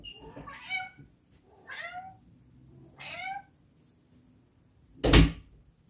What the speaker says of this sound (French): je vais devoir ouvrir à mon chat qui miaule derrière la porte